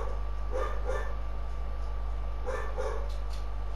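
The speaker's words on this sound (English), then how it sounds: "I know it's not nice to hear a dog bark the whole time." A dog barks repeatedly in short bursts inside the Minecraft video game on PS4, moderately loud over a steady background hum, with pairs of barks near the start and again toward the end.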